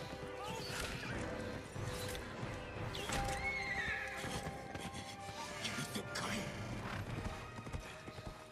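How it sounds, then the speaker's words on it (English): Horse neighing and whinnying in Ghost of Tsushima after being struck by an arrow, with hoof clip-clops, loud and close amid busy game sounds and a person talking throughout. "Oh, my horse got shot with an arrow."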